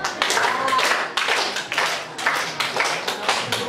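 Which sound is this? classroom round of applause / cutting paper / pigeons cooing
classroom round of applause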